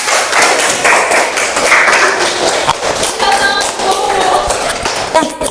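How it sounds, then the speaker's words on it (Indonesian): A classroom group claps together for everyone, a dense, lively patter of hands with scattered taps and thumps, fairly loud and close, with some voices mixed in. "tepuk tangan buat semuanya"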